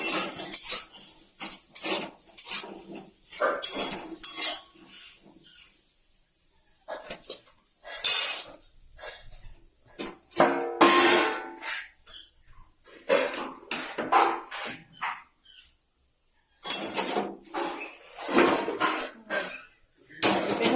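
A kadai (wok) lifted down and handled in a home kitchen, giving sharp metallic clanks and scrapes in irregular bursts separated by short quiet gaps.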